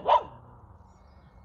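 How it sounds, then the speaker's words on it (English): A single sharp dog bark rings out close by, followed by quiet room background. "Sorry about the dogs barking."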